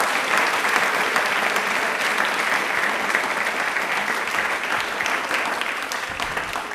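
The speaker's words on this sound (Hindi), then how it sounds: "हम सब के लिए एक बार तालियां जोरदार होनी चाहिए।" Studio audience applauding at a Doordarshan Rajasthan TV quiz programme, a sustained burst of many people clapping, loud and dense at first and tapering slightly toward the end.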